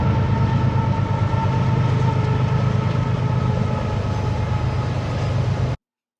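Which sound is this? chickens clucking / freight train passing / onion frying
freight train passing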